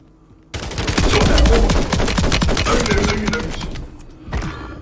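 Video-game gunfire erupts suddenly and loudly, including a fire shotgun alongside rapid automatic weapon bursts, forming a dense, continuous barrage of close shots that tapers off before a final burst.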